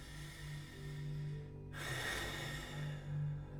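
A person takes one long, close breath in through the nose, a soft rushing sound heard alone over a low background hum.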